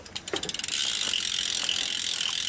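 Rear freewheel hub ratchet of an Amber Reign bike wheel, clicking in a quick burst of separate ticks that run together into a fast, continuous buzzing whirr as the wheel spins freely, close and clear with no talking.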